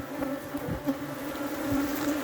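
Africanized honeybees in Trinidad drone steadily around a hive box, a continuous buzzing hum with individual bees passing close now and then, no voices.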